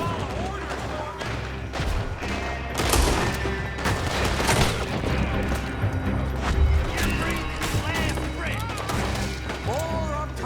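Gunfire in the Western shootout game Red Dead Redemption II, repeated shots and rapid volleys with crashes and impacts, heard beneath character voices talking over the action.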